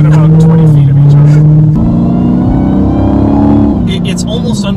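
A 2018 Dodge Challenger SRT muscle car accelerating at light throttle, its engine note loud and close, rising in pitch, dropping with a gear change and then climbing again, with a voice talking over it.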